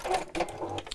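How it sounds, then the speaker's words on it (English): Sewing machine stitching a box cushion cover a quarter inch from the edge with a long stitch, a close, steady mechanical whirr broken by short pauses between runs. "I'm just sewing about a quarter of an inch from each side."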